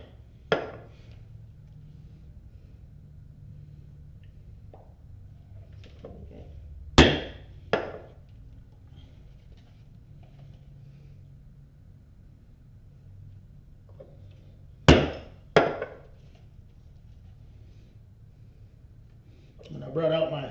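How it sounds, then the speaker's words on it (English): A large maul strikes metal in two pairs of loud, sharp blows spaced apart, with quiet stretches between them and low background sound throughout. "I brought out my larger maul here, so I only have to hit this once."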